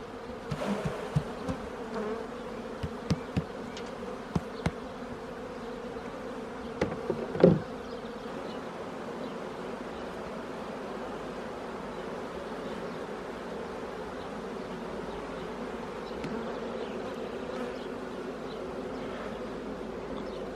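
Honeybees swarm around opened hives at a spring apiary inspection, a continuous droning hum close by, with scattered clicks and knocks of frame handling and one sharper thump near the middle.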